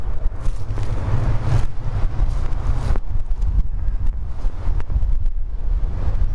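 Strong outdoor wind buffets the microphone in a continuous rumbling roar, loud and gusty from start to finish, with no other sound standing out and no talking.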